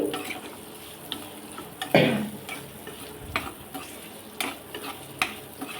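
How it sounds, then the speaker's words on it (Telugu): Bay leaf, onion, dried red chilli and curry leaves frying in oil, a continuous close sizzle with a louder scraping stir near the two-second mark and light ladle taps afterward. "నేను బిర్యానీ ఆకు ఆనియను ఎండుమిర్చి కరివేపాకు వేస్తున్నాను వీటిని బాగా ఫ్రై చేసుకోవాలండి"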